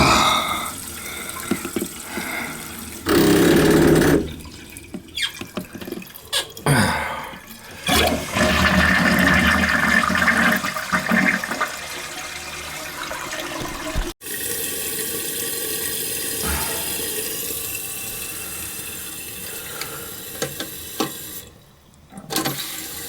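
A household toilet flushes and refills in a house with low cold water flow, with surging water, hissing refill and pauses, loud and close throughout.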